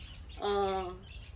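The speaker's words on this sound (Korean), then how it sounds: "이 새 소리를 듣고 또 닭소리," A bird gives one loud, harmonic squawking call outdoors in an African village, close and clear against a quiet background.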